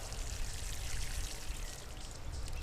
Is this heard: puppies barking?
no